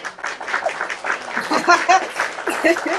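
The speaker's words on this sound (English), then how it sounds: "A round of applause, honey." Lively clapping and cheering from a small audience at a live pitch workshop, mixed with excited voices, laughter and chatter throughout, close and busy.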